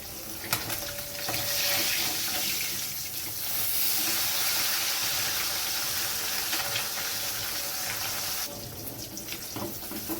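Pieces of rohu fish fry in hot oil in a home kitchen, giving off a steady, dense sizzling hiss that swells and eases slightly across the clip with a few sharp crackles.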